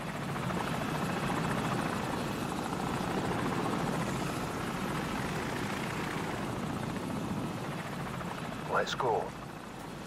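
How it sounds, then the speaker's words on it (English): Steady helicopter rotor drone in Call of Duty 4: Modern Warfare, loud and continuous, with a brief voice near the end. "Enemy helicopter! Get down!"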